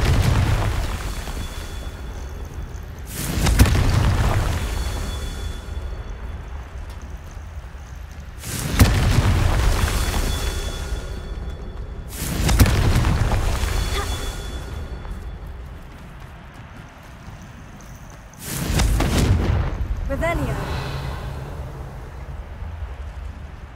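Four heavy, booming blasts from the Confringo spell in the video game Hogwarts Legacy, evenly spaced several seconds apart, each a loud deep burst that rolls off into a long rumbling tail.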